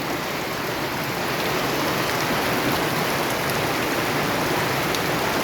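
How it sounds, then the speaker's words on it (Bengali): Heavy rain falls in a continuous broad hiss, steady and fairly close, growing slightly louder after the first second with no voices. "অনেক বৃষ্টি অনেক বৃষ্টি ফেলাচ্ছে"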